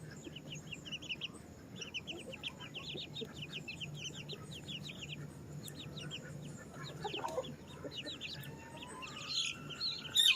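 Backyard chickens cluck in quick repeated bursts, fairly faint, with thin chirps and small farmyard noises around them.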